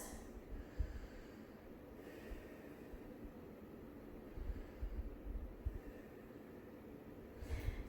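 Slow, faint breathing during a yoga backbend pose, with a few soft nasal inhales and exhales spaced a few seconds apart over a quiet room hiss.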